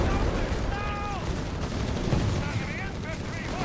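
Gunfire rattles through a Company of Heroes 3 battle between German assault troops and US forces, dense bursts and explosions over a constant war-zone din, with faint voice-like calls in the mix.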